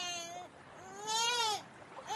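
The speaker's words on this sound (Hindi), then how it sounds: "तभी उसे किसी के रोने की आवाज सुनाई देती है।" A child crying at night in a story sound effect, with wavering high wails that rise and fall in two or three drawn-out sobs, fairly close and clear with no talk over it.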